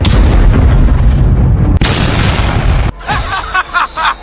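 A heavy tank cannon blast roars into a long rumbling explosion, followed by a second deep boom, then a sudden cut to quieter, muffled sounds.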